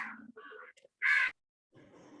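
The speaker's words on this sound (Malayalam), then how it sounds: "കാക്കേന്റെ ഒക്കെ ശബ്ദം എല്ലാരും" Crows cawing: a few harsh, rasping caws, one loud and close burst in the middle, with quieter calls before and after.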